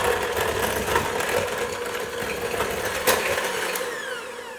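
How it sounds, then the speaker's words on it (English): An electric hand mixer creaming room-temperature butter with a cup of sugar in a bowl, giving a steady close whirring motor drone with a brief rattling clatter partway through. "We're going to take the mixer and blend this together."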